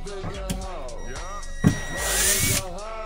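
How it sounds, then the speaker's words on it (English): A cordless power drill whirs in short bursts, pitch rising and falling as screws are backed out, with a voice talking over it. "we got the drill here, we're gonna start taking out these screws"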